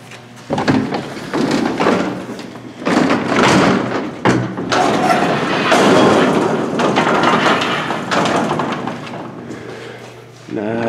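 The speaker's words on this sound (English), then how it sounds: "I think this is the one with the really loud gate, or the squeaky gate." Montgomery hydraulic freight elevator gate at a mall loading dock, heard as loud thuds, sliding rumbles and clanks running almost continuously, with a brief pause near the middle and a person talking over parts of it.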